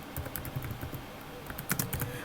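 Typing on a computer keyboard, a quick run of key clicks that come in small clusters with short pauses, close up and clear with no one talking.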